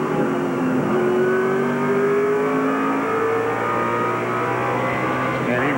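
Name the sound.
NASCAR Featherlite Southwest Tour race cars racing at Tucson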